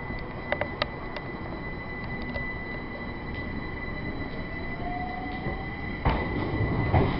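A train rumbles steadily nearby with a broad, continuous roar, faint metallic clicks and a brief wheel squeal rising partway through.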